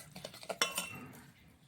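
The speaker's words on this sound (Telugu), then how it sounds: "చూస్తూ బ్యాటర్ని అయితే కలుపుకోవాలండి." A spoon stirs a thick batter of biscuits, sugar, butter and dry fruits in a metal bowl, giving a few close clinks and scrapes followed by a softer swishing mix.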